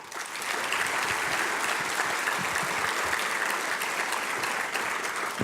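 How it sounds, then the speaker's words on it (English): An audience at an award luncheon applauds the recipients with steady, sustained clapping that fills the room at an even level from start to finish, with no talking over it. "How about another round of applause for them all?"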